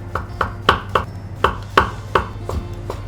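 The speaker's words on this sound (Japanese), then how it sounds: "しいたけは薄切りにしていきます。" A knife thin-slices shiitake mushrooms on a cutting board in about a dozen crisp, evenly paced chops, close and clear with no talk over them.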